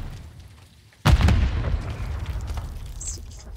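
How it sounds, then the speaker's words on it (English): A single sharp flashbang grenade detonates in Call of Duty: Modern Warfare 3 multiplayer, a sudden loud boom that decays into a rumbling tail. "Flashbangs."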